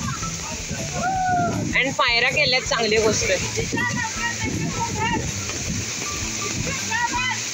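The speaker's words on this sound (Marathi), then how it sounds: "गाईज हा धबधबा चालू आहे" The Amboli waterfall rushes in a steady broadband wash beneath someone talking and other voices nearby, the water constant throughout.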